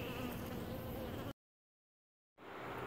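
A bumblebee buzzes near a marigold flower, a faint continuous drone that stops abruptly for about a second of silence before resuming.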